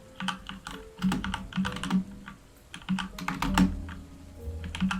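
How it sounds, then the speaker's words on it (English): Soft, quiet clicks of a computer keyboard being typed on in irregular bursts, close and light, with a faint low hum beneath. "trying to do like soft typing though"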